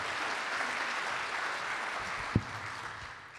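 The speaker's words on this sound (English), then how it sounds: "I think we need another round of applause for Randy because outstanding." Sustained applause from a sizable crowd, steady clapping filling the space, with a single sharp thump partway through.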